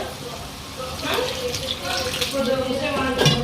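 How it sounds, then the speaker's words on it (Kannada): A little water is poured into a pan of paneer gobi masala, a steady close splashing gush that builds after the first second and continues to the end. "ಸ್ವಲ್ಪ ನೀರು ಹಾಕ್ಕೊಂಬಿಡ್ತೇನೆ ನೋಡಿ ಸ್ವಲ್ಪ ನೀರು"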